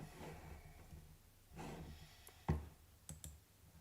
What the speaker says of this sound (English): I'm sorry if you hear this clicking around.